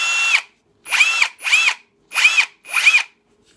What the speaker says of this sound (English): This is drill mode.